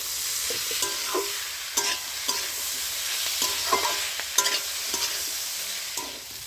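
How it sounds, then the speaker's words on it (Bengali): Ground spice paste frying with cauliflower stems in a pan while it is stirred. A bright, constant sizzle continues throughout, broken by repeated close scraping strokes. No one talks. "মশলাটা দিয়ে আমি ভালো করে কষিয়ে নেব"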